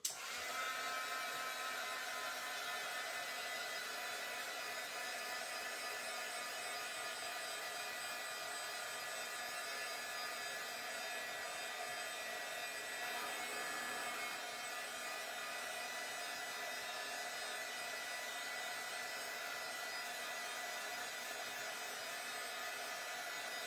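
A heat gun or hair dryer blows steadily on wet paint to heat-set it, a constant breathy whirring roar that holds at an even level throughout with no talking.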